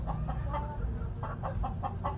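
Domestic chickens clucking at feeding time on a small farm, a steady series of short rhythmic clucks close by over low background noise.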